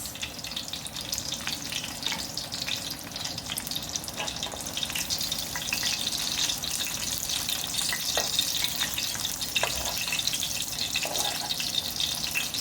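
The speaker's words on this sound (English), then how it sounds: "brown your lumpia on both sides. It will take about a minute to a minute and a half to brown each side" Lumpia fry in hot oil while browning on each side, a dense, continuous crackling sizzle with occasional sharper pops, close up and steady throughout.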